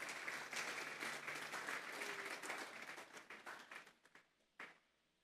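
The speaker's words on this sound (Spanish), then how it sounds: "Vamos a darle un fuerte aplauso pues al Señor esta tarde" A church congregation gives a loud round of applause to the Lord at a Thursday doctrine service; many hands clap steadily, then the clapping thins out into a few scattered claps and fades near the end.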